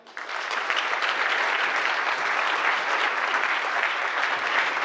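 Loud, dense applause from a crowd fills the room for a speaker at a startup challenge grand final, swelling quickly at the start and holding steady without a break.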